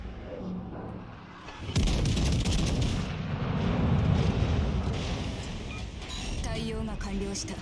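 Heavy naval gunfire in the World of Warships video game, a loud rumbling barrage of booming shots that swells and sustains for several seconds before easing, with game effects toward the end.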